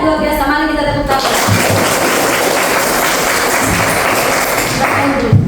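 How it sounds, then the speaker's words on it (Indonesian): A classroom of students claps hands together, a dense burst of clapping that starts abruptly after a brief voice and continues steadily with a few heavier thumps near the close. "Mari kita tepuk tangan."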